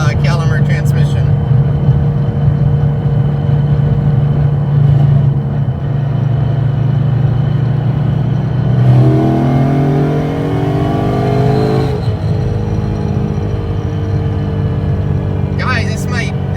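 A car fitted with a Calimer transmission, running stock spark plugs after P0300 misfire trouble, drones steadily under its engine, then climbs in pitch as it accelerates hard midway before settling back, with voices faintly present.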